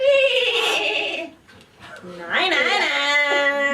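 A horse gives a high, wavering whinny that rises and trails off, then a second, longer neigh follows after a brief dip, both clear and fairly close.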